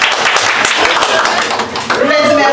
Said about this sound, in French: je voulais nous applaudir avec